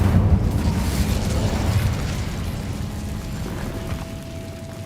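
Incendio fire spell blast in the video game Hogwarts Legacy: a loud roaring burst with deep rumbling that slowly eases off over several seconds, leaving a fainter crackling tail.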